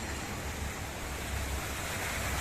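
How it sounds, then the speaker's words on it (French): Water rushing through a model canal lock system makes a steady, full broadband wash like surf, close and continuous with no other clear sounds. "Mais c'est bien que ça fait un bon jeu de bruit d'eau."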